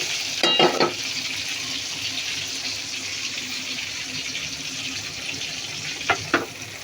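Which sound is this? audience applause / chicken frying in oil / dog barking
chicken frying in oil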